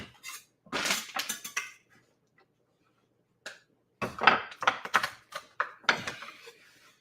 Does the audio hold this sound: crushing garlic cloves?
yes